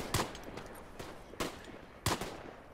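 Gunfire in the World War I shooter Tannenberg, heard as about five sharp, separate shots spaced irregularly, some near and some more distant, over quiet background.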